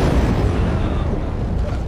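A heavy, rumbling blast echoes in the zombie action game Dying Light 2, deep and dense throughout, with no clear start or finish.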